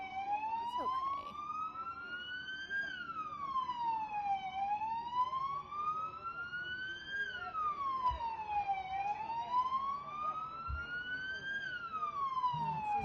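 Police sirens wail outside during street protests in Los Angeles, a steady rising and falling cycle repeating for the whole stretch at moderate distance, with faint background noise and speech-like murmur underneath.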